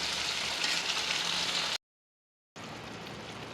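Leaves fry in oil for a chutney, giving a steady, soft sizzle and crackle that stops for a moment and then picks up again at the same even level.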